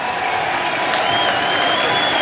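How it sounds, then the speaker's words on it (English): Cricket crowd at Lord's applauding from the fine leg boundary by the Mound stand during a Test match, a steady, distant wash of clapping with faint cheering running throughout. "I think, the applause down on the fine leg boundary away to our left-hand side from the Mound stand"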